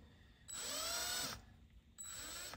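A low-speed power drill with a tiny 1/16-inch bit bores into a Hot Wheels 1967 Chevy C-10 toy truck, giving two short whining bursts close by, the first about a second long and the second starting after a brief pause.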